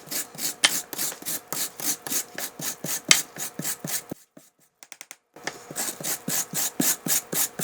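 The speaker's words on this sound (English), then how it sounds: "I'm going to grate this, and you want about 1/4 cup." A full-size carrot grated by hand for a keto mug cake: steady rhythmic rasping strokes, close and loud, about two per second, with a brief pause and a few light knocks before the grating resumes.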